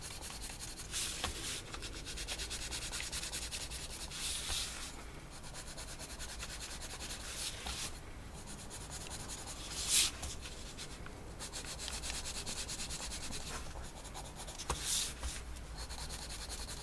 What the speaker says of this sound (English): you could use a pencil for some shading